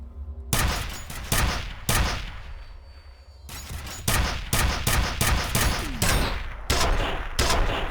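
Gunfire in the shooter F.E.A.R., loud, sharp bursts of shots repeating in quick volleys with short gaps between them, close and harsh, with no talking.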